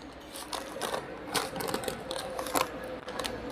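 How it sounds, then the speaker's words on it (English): An automatic sachet packing machine runs close by, clacking in quick irregular mechanical bursts as it vertically seals small grain or coffee-bean bags, with a steady whir underneath. "Vertical sealing of the bag."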